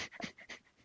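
A tabletop role-playing player imitates a dog panting with quick, breathy huffs, several short bursts close to the microphone in under a second, no other voices.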